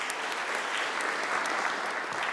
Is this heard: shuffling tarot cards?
no